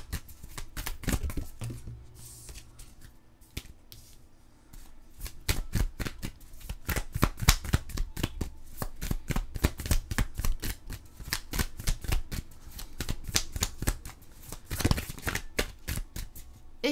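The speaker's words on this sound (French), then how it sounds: "Les cartes tombaient de partout, puis là, on n'a plus de cartes." Tarot cards shuffled by hand in a long run of quick, crisp riffling flicks, close and fairly quiet, with a brief pause before the shuffling resumes at a steady rhythm.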